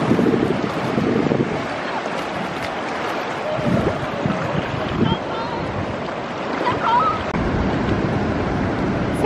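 Surf washes onto a small cold-water beach in summer, a continuous rushing hiss with wind buffeting the microphone, while people talk nearby.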